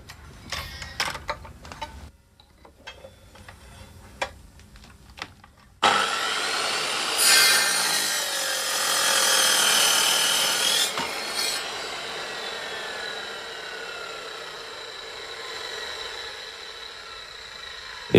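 Hard aluminium carillon bars are cut against a template with a saw: a few scraping, rasping strokes first, then a sustained, bright metallic sawing whine that rises and holds, close and loud with no talking.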